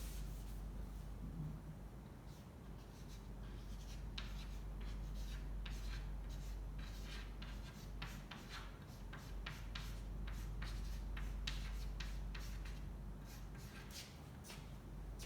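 Pen or marker drawing a knockout tournament bracket by hand on paper, with steady scratchy strokes and short repeated ticks close up over a low constant hum, no talking.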